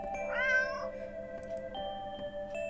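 A stray cat in a video game alley gives a single drawn-out, rising-and-falling meow near the start, loud and close, followed by quiet ambient game sounds with no talking.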